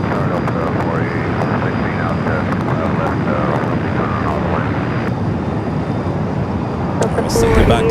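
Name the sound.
Sichuan Airlines Airbus A350-900 arriving at LAX from Chengdu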